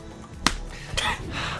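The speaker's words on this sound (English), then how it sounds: "You keep clapping your thighs." Two sharp slaps of hands clapping against thighs, about half a second apart, the first crisp and the second softer, close and alone.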